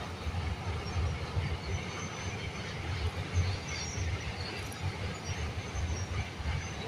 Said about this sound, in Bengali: তিস্তা নদীর ওপর দিয়ে ট্রেনটা যাচ্ছে